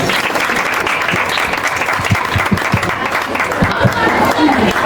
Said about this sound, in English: a round of applause for us, please